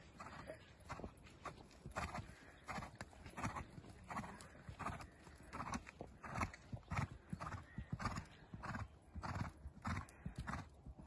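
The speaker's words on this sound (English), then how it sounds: "Have an old canter there, Bren." A horse cantering outdoors, its rhythmic three-beat hoofbeats clip-clopping steadily and fairly close, with a neigh heard along the way and no speech over it.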